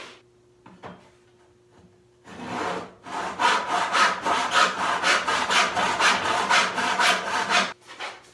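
A hand saw cuts through the wooden bottom panel of a sideboard in hand-tool woodworking, a run of steady rhythmic back-and-forth strokes, close and clear, preceded by a few light knocks and followed by quiet.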